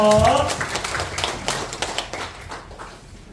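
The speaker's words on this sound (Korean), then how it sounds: "우리 하나님께 영광의 박수 드리겠습니다." A church congregation claps briefly after singing, with a few scattered claps over fading voices that quickly thin out.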